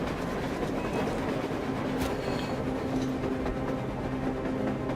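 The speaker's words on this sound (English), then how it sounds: "A train! A damn train on the surface!" A train runs on rails in Metro Exodus, a steady rumbling roar with faint clickety-clack, constant and loud throughout, with no voices over it.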